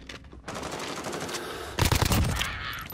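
Rapid automatic gunfire from Call of Duty rattles in dense, close bursts, growing louder and heavier for the final second.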